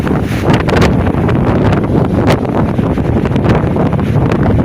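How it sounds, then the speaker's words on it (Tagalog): Strong typhoon wind roars steadily into the microphone, a loud continuous buffeting rumble with gusty rustling and no pauses. "ang lakas ng ating hangin."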